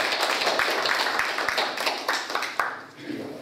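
People at a Korean association board meeting applaud in a room, a dense patter of clapping that fades out after a few seconds, with voices mixed in.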